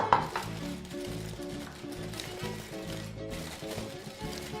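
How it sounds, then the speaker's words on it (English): Oil sizzling in a frying pan as chicken is fried: steady frying sizzle with a dense crackling hiss, close and continuous, with a few clinks of cookware layered over it. "check our oil with a bit of flour. Perfect, nice and sizzling."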